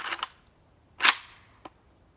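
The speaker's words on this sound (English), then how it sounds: "load the rifle and remove the safety with one action" An AKM rifle is loaded and its safety taken off in one motion, with a pair of sharp metallic clacks, a louder snap about a second later, and a faint click after that, all close and crisp.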